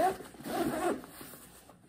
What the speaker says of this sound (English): it has zippers on the side so you can open it